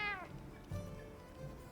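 A cat in the video game Monster Hunter Wilds gives a single short, rising-then-falling meow, quiet and clear, followed by faint game sounds.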